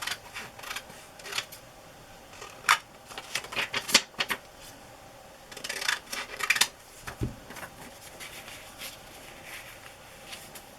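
Scissors trim the white edge off a paper collage, giving a run of small crisp snips and paper rustles that come in scattered bursts, close and fairly quiet, with no talking.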